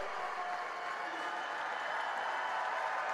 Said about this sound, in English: Listen to this crowd here at mile 1